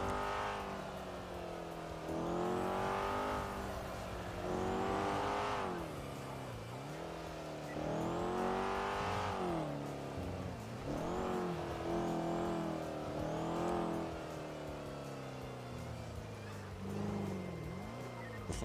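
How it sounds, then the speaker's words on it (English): Car engines in GTA V NoPixel rev and accelerate through rising and falling gear sweeps, with several vehicles roaring around nearby, occasional tire squeals and passing cars, loud and continuous. "Why is there so many cars around?"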